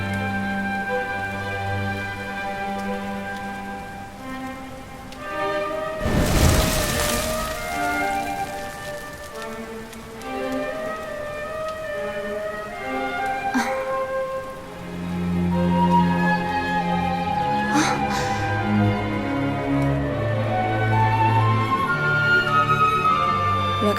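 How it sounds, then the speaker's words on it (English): Rain in the video game Dragon Quest XI S, a steady wash of falling water under a layered musical score, with a brief louder burst near the start and no talk. "Looks like the rain's dying down."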